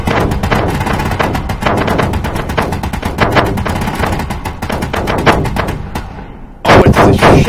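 Rapid automatic gunfire from a ship's weapons pounding a pirate station in Space Engineers: a loud, dense burst of repeated shots that cuts out briefly near the end before resuming.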